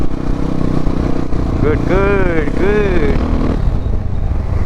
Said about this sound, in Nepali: डिबी किलर निकालेर हिँडेको छु फेरि फन्दामा परिएला एफएमएफको साउन्ड चाहिँ क्या दामी हानिरहेछ क्या